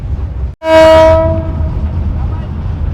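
A loud, sustained train horn blares once, a single harmonic blast lasting about a second over rumbling rail noise, on a train in Jordan.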